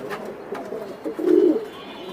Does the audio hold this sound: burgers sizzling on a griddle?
no